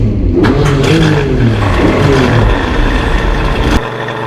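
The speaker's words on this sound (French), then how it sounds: "Wow, ça c'est de la voiture" A car engine in a stop-motion film revs loudly and continuously up close, with rising and falling pitch sweeps, then cuts down to a lower idle near the end.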